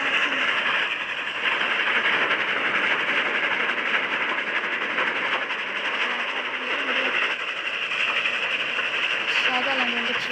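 A train in the video game Dead Rails rumbles along continuously, its loud steady rolling noise filling the whole stretch, with a voice talking over it.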